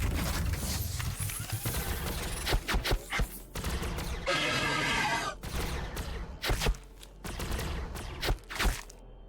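Gunfire rattles in the Warhammer 40K: Battlesector video game: dense volleys and sharp single shots, some loud and close, over a rumbling battlefield with a few scattered voice sounds.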